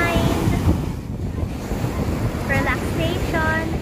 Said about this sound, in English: the sun, the splash of the waves